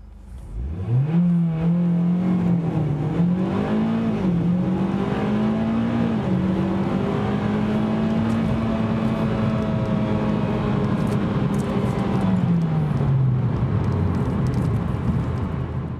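A 2013 Mitsubishi Evo MR accelerates hard from 0 to 60 mph with traction control off, a loud, close engine drone that climbs in pitch through the run and then fades and drops at the end.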